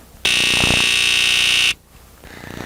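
A household smoke detector being tested blares a loud, piercing continuous alarm tone for about a second and a half, then cuts off abruptly into quiet room sound.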